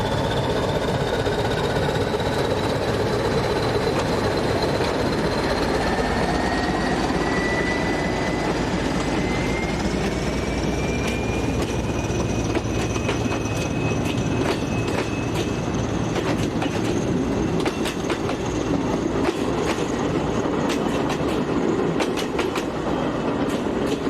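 A Portuguese class 1400 diesel locomotive, number 1422, pulls out of Faro station with a rising engine drone and whining tones, steady and loud throughout, with rhythmic clicks of wheels over rail joints building in the second half.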